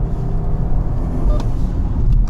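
A BMW sedan brakes hard on track and downshifts to second gear, heard as a loud, close, continuous low engine rumble inside the car, with a few faint clicks near the end.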